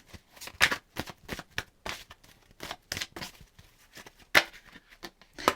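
Tarot cards are shuffled by hand in a steady run of crisp riffles and slaps, each burst short and close, repeating irregularly through the stretch without talk over them.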